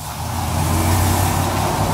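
An Oldsmobile engine cranks over and runs with a loud, steady low rumble. It is close and sustained throughout, with no voices.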